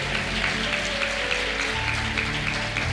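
A church congregation applauds in a dense, steady patter of many hands that fills the room at an even level from start to finish.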